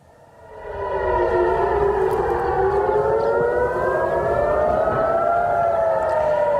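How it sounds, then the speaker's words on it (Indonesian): An air raid siren in Jerusalem rises and wails loudly and continuously during an Iranian attack on Israel, its pitch slowly sweeping up and down. "Sirene meraung"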